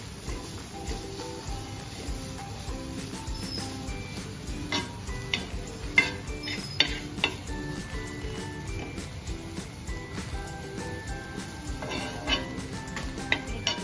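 Pomfret stuffing is stirred together with sugar and lemon juice, giving soft, quiet scraping and tapping of a spoon against a bowl in irregular strokes over a faint background hum.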